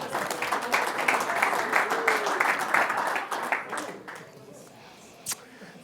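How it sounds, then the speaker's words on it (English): An audience at a Toronto seminar gives a round of applause for the ladies, dense clapping that holds for about three seconds and then fades to a few scattered claps, with some voices in the room. "Give the ladies a round of applause,"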